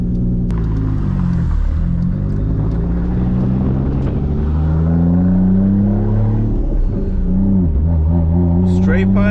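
Big-turbo MKIV Toyota Supra with a straight-pipe exhaust cruises at low revs, a loud, steady engine rumble with gentle rises and falls in pitch across the whole stretch.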